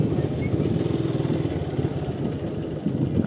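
A motorcycle engine idles close by as the bike is parked on the hill at Kalu Pandey Dada near a view tower resort, a low, pulsing putter that stays steady throughout.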